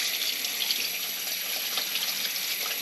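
Kitchen tap running for washing dishes, a steady, close hiss of flowing water that continues unbroken, with no talk.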